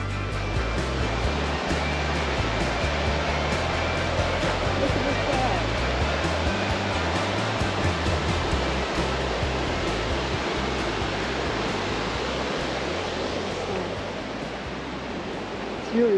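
Flowing water at a swimming hole in the Greenstone Valley on the Greenstone Caples track, a steady, loud, continuous broadband rush that holds unbroken for the whole stretch, with no one talking.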